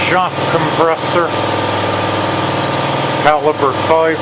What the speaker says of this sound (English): Excuse the noise of the shot compressor.